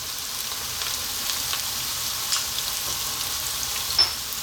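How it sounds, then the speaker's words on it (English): Green beans fry in a hot pan with a steady, even sizzle and crackle throughout, plus occasional brief stirring scrapes and one sharper clink near the end, close and moderately loud, with no voices. "we're going to fry these around for about 3 to 4 minutes"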